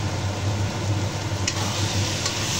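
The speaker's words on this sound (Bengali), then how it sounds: "আবার কষানো শুরু করলাম" Chana masala with minced keema sautéing in a pan gives a steady, close sizzle with faint stirring scrapes and a couple of brief clinks, with no talking.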